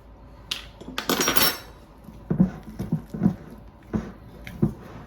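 A spoon stirs orange extract into a bowl of thick creamsicle fudge. A burst of scraping gives way to a string of distinct clinks and knocks against the bowl, close and fairly quiet.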